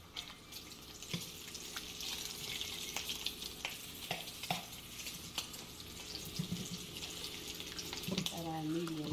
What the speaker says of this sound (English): Let me check my bacon. It's cooking pretty fast